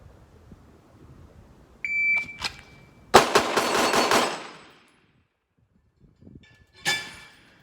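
Shadow Systems MR920 pistol fired at a target: a timer beep, then a quick burst of sharp shots close together, a pause, and another beep.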